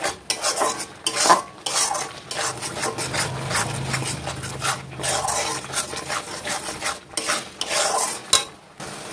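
Malai chicken korma being stirred and sautéed in a pan at home, with a spoon repeatedly scraping and clinking against the metal, irregular scrapes and taps close by over a faint sizzle.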